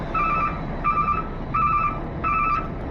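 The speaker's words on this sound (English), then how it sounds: "It's beeping because I'm not in it." Four evenly spaced electronic vehicle warning beeps, each a steady two-tone chirp lasting about half a second, sounding while the driver is out of the vehicle, over a low background hum.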